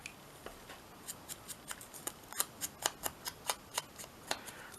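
Scissors snipping paper for a journal postcard in a quick series of small, crisp cuts, close and fairly quiet, with no talking.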